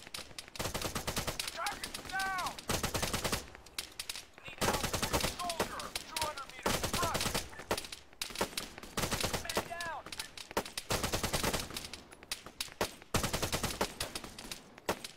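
Long bursts of automatic gunfire in Arma 3, rapid and loud, broken by brief pauses between volleys, with someone talking between bursts.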